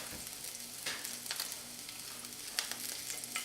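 Garlic hits hot oil in a pan after pork has been seared, a soft steady sizzle and light crackle heard close but fairly quiet, with no voices.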